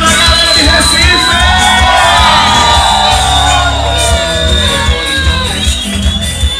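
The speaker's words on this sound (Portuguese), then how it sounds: "Cadê o grito da galera de Recife?" A loud crowd at a graduation ceremony shouts, whoops and cheers continuously, with many voices blending into a dense, sustained roar.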